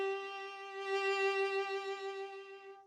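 A single sustained violin note with fast, intense vibrato, rich in harmonics, rising slightly in loudness at its middle and then easing off, played alone without talk.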